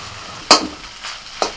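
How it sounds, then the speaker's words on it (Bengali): Chow mein noodles stir-fried with cabbage, green chillies and vegetables, giving short bursts of sizzling as they are tossed, two sharp hits about a second apart with quieter frying between, close and fairly loud, no talk. "সবজিগুলো সব হালকা করে ভেজে নিয়ে এবার চাউমিনটা দিয়ে দিচ্ছি"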